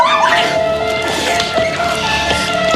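A dog whimpers and yips repeatedly at close range in a busy indoor group setting, its high cries overlapping with chatter and general commotion.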